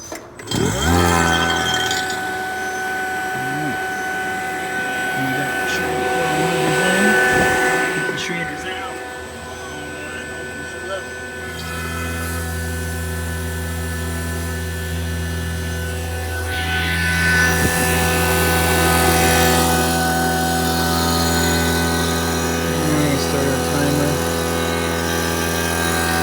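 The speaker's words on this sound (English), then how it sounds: "we're gonna go ahead and start the vacuum" A vacuum pump starts up and runs steadily while evacuating an air-conditioning system during a compressor replacement, a loud droning hum with mechanical whine that holds for the whole stretch, with some talk over it.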